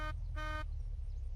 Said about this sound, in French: Comment on fait pour klaxonner?